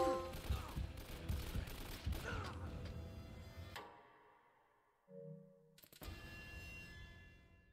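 AK-47 fire in the video game Uncharted comes in rapid automatic bursts with loud, echoing reports, breaks off into near silence, then a short electronic tone sounds and the shooting starts again.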